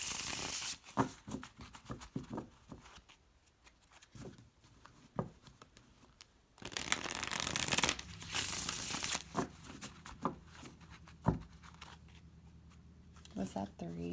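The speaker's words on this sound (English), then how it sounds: "I'm going to shuffle them 3 times" Large tarot cards shuffled by hand, a quiet run of papery crinkles, riffles and taps with a louder burst of shuffling in the middle, close and soft, with a voice talking intermittently.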